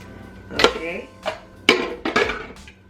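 A spoon knocks and scrapes inside a pot of tomato soup made with diced tomatoes and tomato juice, giving four or five distinct close clinks and scrapes spread over about three seconds.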